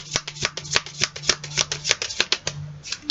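Animal tarot cards shuffled by hand, a rapid series of crisp riffling snaps and flicks at close range, steady and alone without speech.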